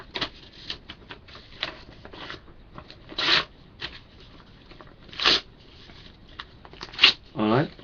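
A sheet of paper is handled and torn into small bits, giving several short, sharp ripping bursts between softer rustling, close to the microphone under a quiet room.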